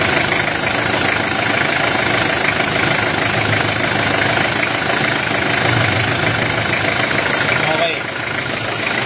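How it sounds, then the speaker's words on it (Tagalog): A car engine idles steadily at close range while the air-conditioning compressor clutch engages and runs, giving a constant droning hum with a faint change near the end, under people talking. "sign na good pa yung ating compressor, yung clutch compressor gumagana pa"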